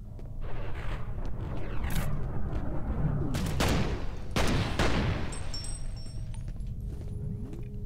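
Pistol shots in the shooter game F.E.A.R. crack out sharply several times amid a rumbling, chaotic firefight, with loud separate bangs spaced irregularly across the scene.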